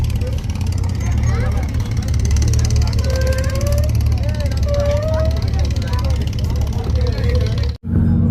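Steady, loud engine drone of a passenger launch on a river in Bangladesh, continuous low rumble with people talking over it, cutting out briefly near the end.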